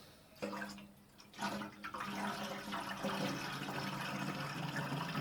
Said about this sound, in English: So let's top it up with water.